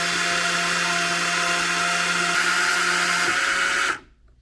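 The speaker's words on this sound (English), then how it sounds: "this big threaded shaft goes all the way up in this piston tank, and when it extends, comes way back in here" Electric motor drives the threaded shaft of a piston ballast tank in a large RC Typhoon submarine, a loud steady mechanical whir with faint pitch shifts, close and alone, cutting off abruptly near the end.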